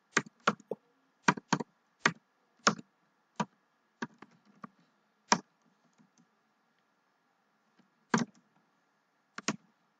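Computer keyboard keys clicking in scattered short bursts while data columns are entered, with long pauses between keystrokes and no talking.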